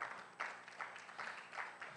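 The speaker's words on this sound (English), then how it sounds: "Give God a hand clap of praise." A church congregation claps hands in praise during a worship service, faint rhythmic bursts of clapping at a distance with no voices.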